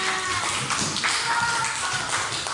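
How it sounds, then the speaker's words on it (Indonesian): A group of students in a classroom clap together in a short burst of scattered, tapping applause, fairly close, with faint voices underneath. "Tepuk tangan."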